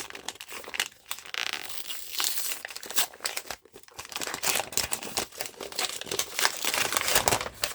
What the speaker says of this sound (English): Don't you just love the rustle of brown paper?